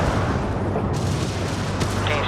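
Incoming artillery rounds in the space game Homeworld 3 make a heavy, continuous rumbling barrage with deep booms and bursts of crackling noise, loud and unbroken.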